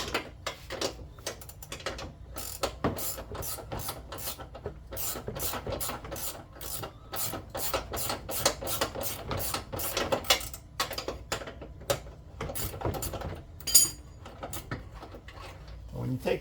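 A ratchet turns a nut on the forward lower control arm of a Dodge Charger, giving quick bursts of rapid clicking in irregular runs, close and fairly quiet, with occasional metallic clanks.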